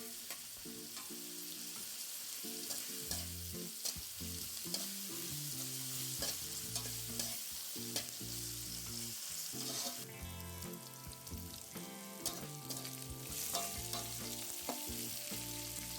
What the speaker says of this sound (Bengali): সব মশলাগুলো এবার ভালো করে একটু ভেজে নিচ্ছি।